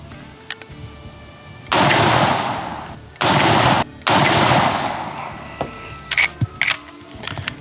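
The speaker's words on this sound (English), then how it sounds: "I'm gonna shoot this off the bench, but not with sandbags or anything" Three loud rifle shots from a Henry Steel .30-30 lever-action fired off a bench outdoors, each a sharp blast with a trailing echo, spaced about a second or more apart, followed by faint clicks of the lever action.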